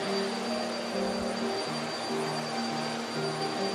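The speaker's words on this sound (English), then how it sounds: "Let's do a little bit more vacuuming just so you can hear it and see how it works." A Eureka Flash lightweight stick vacuum cleaner runs while vacuuming the floor, a steady close motor whine and airflow rush with slight wavering pitch, no talking.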